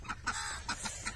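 Ducks call from outdoors near a farm home in the evening, several quick nasal quacks in a rapid, uneven burst at moderate distance with no talk.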